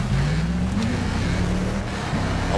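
Racing car engine in the video game Sega Rally, a bonus vehicle droning loudly and steadily with rising and falling pitch as it accelerates and shifts, no talk.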